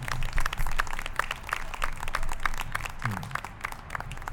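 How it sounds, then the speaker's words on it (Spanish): A church congregation applauding during a sermon, a dense continuous patter of many hands, fairly even in loudness and heard from within the room. "Un aplauso al Señor."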